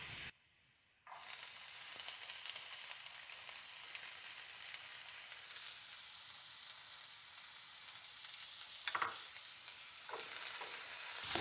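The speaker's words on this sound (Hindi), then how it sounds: "जैसे ही गार्लिक हल्के हल्के से रोस्ट हो जाएंगे हम उसमें डाल देंगे प्याज" Chopped onion and garlic frying in a pan, a steady close sizzle with occasional stirring scrapes, briefly quiet at the start before the onion goes in, then a continuous hiss with a few louder bursts near the end.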